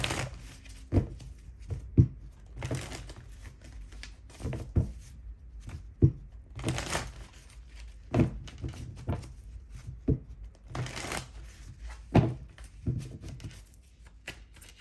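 Tarot cards are shuffled repeatedly, with soft riffling swishes punctuated by sharp taps and thumps at irregular intervals, close by and with no talking.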